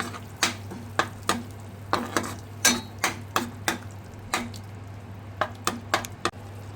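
A spoon stirs soaked kokum and sugar into a drumstick sabzi in a pan, making a string of distinct wet, squishy taps and scrapes, about two a second, close and fairly soft over a faint hum.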